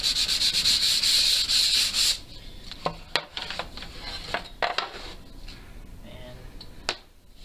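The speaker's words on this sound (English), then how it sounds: "You don't really have to sand the top or the back." Sandpaper rubs steadily over the wood of a bowed lyre kit, a loud continuous scratchy rasp for about two seconds, then lighter scattered scraping and tapping of handling.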